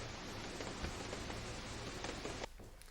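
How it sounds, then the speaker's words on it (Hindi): Heavy rain pours down in Delhi-NCR near Ghaziabad, a dense, loud, continuous hiss that drops off abruptly near the end, with no voices. "अंधेरा एकदम से छा गया और उसके बाद तेज बारिश लगातार जारी है।"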